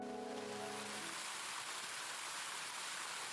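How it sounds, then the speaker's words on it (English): Steady, hissing rain in the video game Ame no Marginal fills the scene, a dense continuous patter with no distinct drops, after a brief low musical tone fades out at the start. "just outside was the sound of the endless rain"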